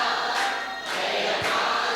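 A church congregation at a Sunday service claps along while singing, a dense wash of hand claps and voices filling the room, steady and loud throughout.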